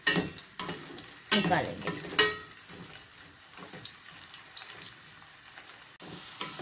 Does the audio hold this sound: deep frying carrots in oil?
yes